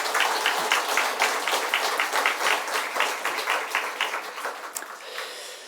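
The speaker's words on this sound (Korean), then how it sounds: "감사 박수 한번 하겠습니다" A church congregation gives thanks with a burst of hand applause: dense, close clapping that fills the room, holds steady, then slowly thins toward the end, with no talk over it.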